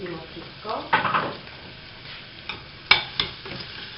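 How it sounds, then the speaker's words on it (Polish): Sausage and onion frying in a pan make a low sizzle, broken by a few sharp scrapes and clicks of a utensil stirring against the pan. "Podsmażam kiełbaskę."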